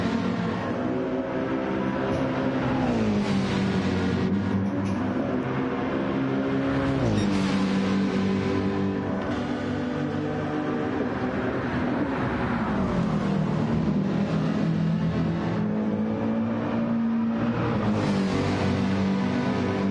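Several race cars battle in Gran Turismo 7 at Kyoto Driving Park, engines whining loud and continuous, pitch climbing and dropping through repeated gear shifts as the cars run close together.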